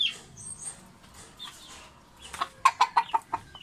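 White Kelso chickens cluck in a backyard farm, a run of five or six short, fairly close clucks in quick succession after quieter rustling, with no one speaking.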